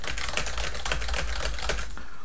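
Rapid typing on a computer keyboard while entering notes into Microsoft Word, steady close clicking keystrokes throughout with no talk.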